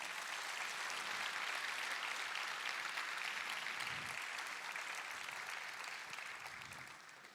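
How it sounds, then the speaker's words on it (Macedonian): A concert audience at a New Year music school concert in Shtip claps in dense, sustained applause that holds steady and then fades at the end. "Да ги поздравиме со аплауз."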